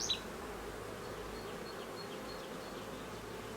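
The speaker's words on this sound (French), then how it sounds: "Donc ça c'est un essaim du mois de début mai, ça." A swarm of honeybees, captured in early May, buzzes in a steady, dense hum that holds at an even level throughout, close by and with no talking.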